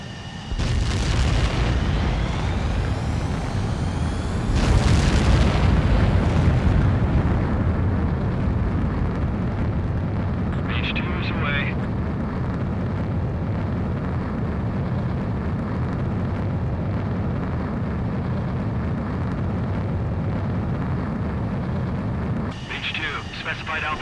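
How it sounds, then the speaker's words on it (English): A fighter jet in the video game Ace Combat 7 takes off, a loud continuous roaring engine rush that swells early and holds steady, with a brief radio-style voice passage partway through. "Mage 2, begin takeoff sequence."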